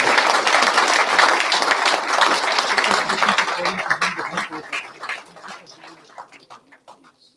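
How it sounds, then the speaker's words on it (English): Big round of applause from guests at a cricket club annual dinner, dense clapping filling the room for several seconds, then thinning out and fading toward the end. "I ask you to give a big round of applause to Mark Arthur, Chief Executive of Yorkshire County Cricket"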